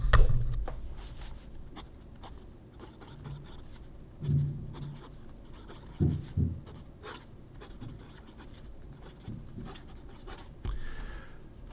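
Fountain pen with an Aurora flex nib scratching across paper, close and steady, with short strokes and light taps in an irregular rhythm and no talking.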